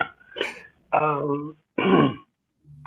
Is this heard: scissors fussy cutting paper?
no